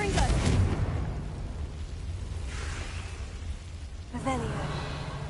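A fiery Confringo blast spell in the wizarding game Hogwarts Legacy opens with a loud burst, then fades into a sustained low rumble with a second softer flare near the end, while a voice talks over it.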